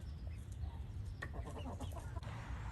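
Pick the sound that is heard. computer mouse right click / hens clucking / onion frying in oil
hens clucking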